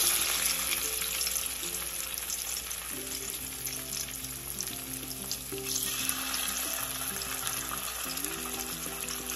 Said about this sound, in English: So now the fish has started going into the oil.